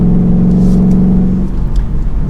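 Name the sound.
2021 Ford Mustang GT engine accelerating while driving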